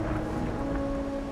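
Steady rain with a low rumble of thunder in the video game Wuthering Waves, a continuous even wash of ambience heard alone at moderate level for the whole stretch.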